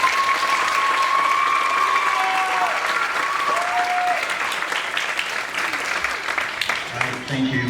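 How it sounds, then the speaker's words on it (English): An audience at a school recognition ceremony applauds students, loud continuous clapping that thins out toward the end, with a voice talking over it. "A round of applause for them, please."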